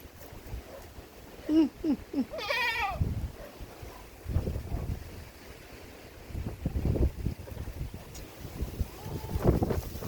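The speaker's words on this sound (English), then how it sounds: "So the baby goat is somewhere here." A baby billy goat bleats several times early on, wavering high calls at moderate distance, followed by rustling, wind buffeting and handling noise outdoors.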